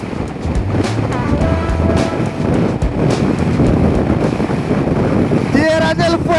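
Strong wind buffets the microphone while riding a BMW R1200GS motorcycle through Tierra del Fuego, a constant loud roar with engine and road noise beneath, ending in a few sharp higher tones near the close.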